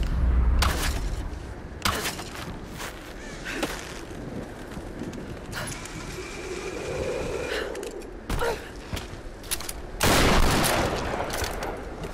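Loud gunshots ring out in Tomb Raider 2013, several sharp cracks scattered across the stretch amid footsteps and game ambience, with one heavy blast near the end.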